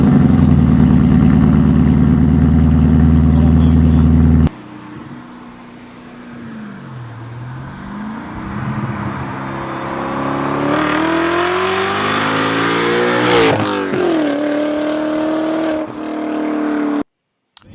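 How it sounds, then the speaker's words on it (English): A BMW E39 M5 V8 starts with a loud low idle, then pulls away with a rising engine note that climbs through several gear changes and swells near the end before cutting off. "here's a startup and a drive of it"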